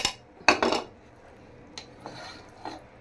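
A metal spoon scrapes and clanks against a pot while rice and meat are mixed together for biryani, a couple of loud bursts early on followed by softer, scattered scrapes.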